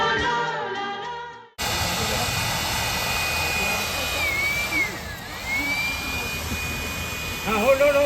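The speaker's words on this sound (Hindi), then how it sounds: "जब हीरो हीरोइन के बाल उड़ाने होते हैं या उनको बहुत ही सुंदर दिखाना होता है तो ये हैंड ब्लोअर यूज़ करते हैं" A handheld blower on a film shoot at a garden villa location, used to blow the lead actors' hair. A brief voice comes first, then a sudden, steady, loud whooshing roar runs on without a break.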